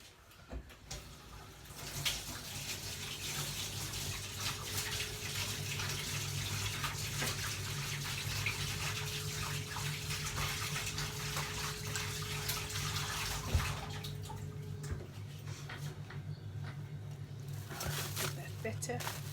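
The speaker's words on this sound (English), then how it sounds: "Let me just wash my hands quick." A kitchen tap runs steadily while hands are washed, a loud, close, continuous rush of water with rubbing and splashing that stops near the end.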